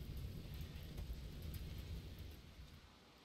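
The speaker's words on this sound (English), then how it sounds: "And it's raining, so it will take out the fire." Rain in the video game RimWorld, a steady broadband wash of falling rain with a low rumbling undertone, moderately loud and continuous throughout, no talking.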